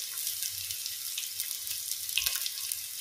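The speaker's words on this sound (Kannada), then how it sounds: "ಈಗ ಮೆಂತೆ ಮತ್ತು ಬೆಳ್ಳುಳ್ಳಿ ಸ್ವಲ್ಪ ಫ್ರೈ ಆಗುವಾಗ ಬೇಕಾದಷ್ಟು ಈರುಳ್ಳಿ, ನಾನಿಲ್ಲಿ ಸಣ್ಣ ಈರುಳ್ಳಿ 2 ಹಾಕ್ತಾ ಇದ್ದೇನೆ" Fenugreek seeds, garlic and small onions sizzle steadily in hot oil, a soft continuous crackle and hiss heard close up without any talking.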